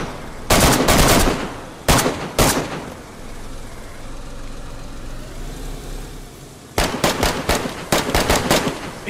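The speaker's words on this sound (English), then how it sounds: "Shoot the zombies first." Rapid gunfire from shooting zombies in the video game DayZ, loud automatic bursts at the start and again near the end, separated by a stretch of low rumbling background.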